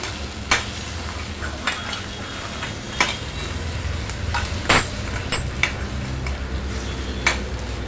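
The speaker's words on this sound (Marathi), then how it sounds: "आपण भाजी हलवून घेऊया" A spoon stirs cauliflower and potato sabzi in a pan, with scattered metallic scrapes and clinks against the pan over a steady sizzling background.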